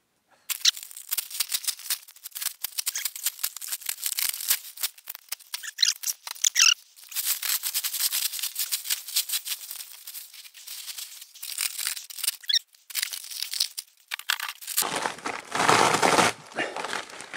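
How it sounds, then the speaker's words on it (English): A carbon fiber car door part peeling out of its mold, a long run of crackling, crinkling and squeaky separating sounds, close and sharp, ending in a louder rushing scrape. "It's already pulling out of the mold."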